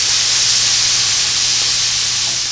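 Onion sizzles in rendered bacon fat in a pan, a steady, loud, close frying hiss that holds evenly throughout without talk.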